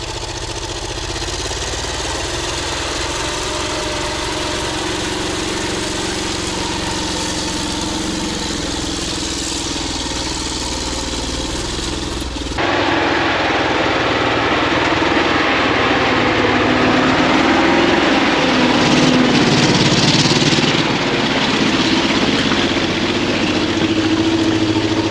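A ZIL 10x10 truck engine labours off-road, a steady mid-range drone throughout that grows rougher and louder in the second half as the heavy vehicle pushes through difficult terrain, with no voices over it.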